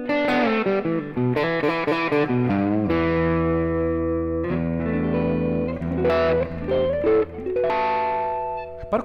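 Electric guitar played through a Joyo Maximum distortion pedal in hard clip mode, giving loud, thick, sustained distorted chords and riffs with no pauses in between.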